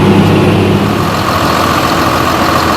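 A John Deere 6930 tractor with a 6.8 litre diesel engine pulls a 4.8 metre air seeder planting triticale in a field beside a racetrack. The engine drones loudly and steadily up close, a continuous low rumble with no talk.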